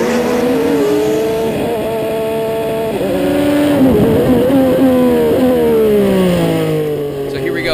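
An IndyCar races around the Sonoma circuit, heard from onboard: a loud, close engine note that climbs and drops with the gear changes, while a driver talks over the roar.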